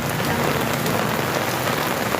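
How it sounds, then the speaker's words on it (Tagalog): Steady rain pours down on a street while someone shelters from it, a dense, even hiss of drops spattering on surfaces close by with no voices. "Tabutan lang tayo ng ulan"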